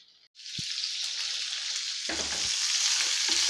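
Onion, garlic and curry leaves hit hot oil for a horse gram sprouts sambar, a sudden loud hissing sizzle that holds steady, with a few low clatters of a stirring spoon.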